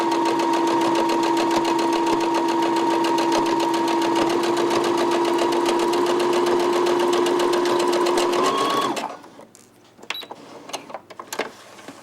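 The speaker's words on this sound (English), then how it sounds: "just stitching down the edge all the way to the end" A sewing machine runs steadily while stitching down the edge of a trim, a loud, even mechanical whir with a rapid needle rhythm that stops abruptly near the end, leaving a few faint clicks and handling noises.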